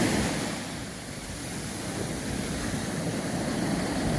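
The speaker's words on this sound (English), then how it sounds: "waves are just getting you every now and again, and every now and again a big one surprises you" Ocean waves break and wash continuously at the water's edge on a Caribbean beach at Juan Dolio in the Dominican Republic, a loud, steady surf roar with some wind noise.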